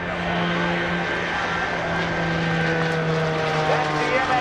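An MXS aerobatic plane flying past at a naval air station airshow sends out a steady, loud engine drone with a propeller hum that holds fairly constant throughout, while a commentator talks over it.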